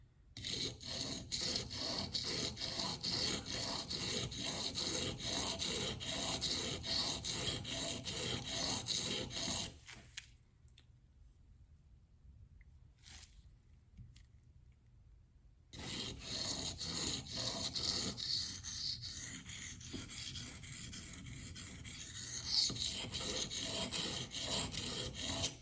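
S110V knife steel is stroked across 400-grit Super Vitrified and Venev diamond stones, giving a steady close rasping scrape that stops for about six seconds of near-silence and then picks up again.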